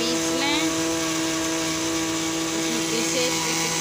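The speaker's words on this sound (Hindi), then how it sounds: "मैं भी मिक्सी में पीस ले रहे, इसका ढक्कन थोड़ा टूट गया, बहुत पुरानी हो गई मिक्सी" An old mixer grinder with a slightly broken lid grinds rice in a steady, loud motor whine that runs unbroken throughout, with a faint voice in the background.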